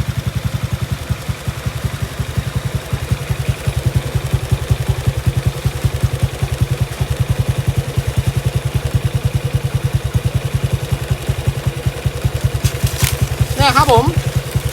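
A 125cc motorcycle engine idles through a modified quiet muffler with a steady, muffled low putter from the exhaust, continuous throughout, with a brief squeaky chirp near the end.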